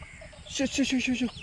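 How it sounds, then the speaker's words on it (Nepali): A rooster calls a hen to feed with a quick run of rhythmic, low clucks, fairly close, over faint outdoor background noise. "बोलाइरहेको छ ल भालेले पोथीलाई खुवाउन"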